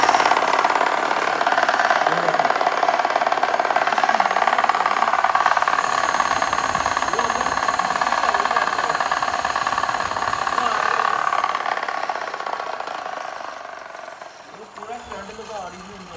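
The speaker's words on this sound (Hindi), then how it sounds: "चेक की आपने हमारी मशीन दोस्तों, कितनी ज़बरदस्त है और कितनी प्यारी हमने डोर लपेटी है" A kite-string winding machine spools chemical-coated kite thread onto a reel, giving a steady, loud mechanical whir and rattle that runs continuously before easing off near the end, with people talking over it.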